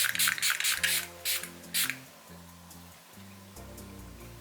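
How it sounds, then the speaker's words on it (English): Several quick bursts from a fine-mist spray bottle of skincare face mist, short hissing puffs in an uneven rhythm, fairly close, followed by soft rustling handling. "I like the mister sprayer too."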